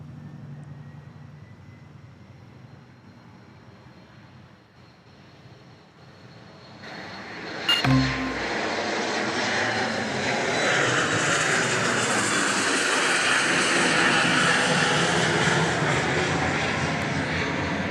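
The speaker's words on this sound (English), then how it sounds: "I think it's lined up now to take off" A Southwest jet airliner takes off at Dallas Love Field, its engines rising from a distant rumble to a loud, sustained broadband roar that holds steady for the remainder of the departure, with no talking.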